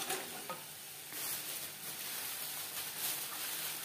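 Spices with garam masala powder fry in a pan, a soft steady sizzle with occasional light stirring scrapes, fairly quiet and without voices.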